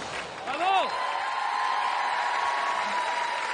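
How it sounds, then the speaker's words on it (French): TV studio audience applauding: dense, steady clapping from a large crowd, with a brief whoop near the start and a voice heard over it. "vous pouvez les applaudir très fort"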